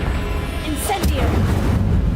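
An Incendio fire spell is cast in Hogwarts Legacy, a sudden fiery whoosh and booming burst that flares up and fades within a second over a steady low game rumble.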